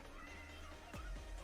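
A house cat gives two short, quiet meows in a row, faint and close against a low steady hum of room noise.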